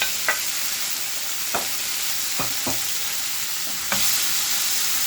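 Steady frying sizzle of tomatoes in a pan fills the clip, with a few soft clicks and stirring knocks, close and continuous without any talking.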